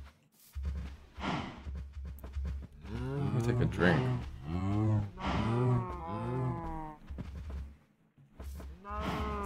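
Loud, drawn-out cow moos from Minecraft repeat one after another over a low hum, with a person speaking briefly near the end.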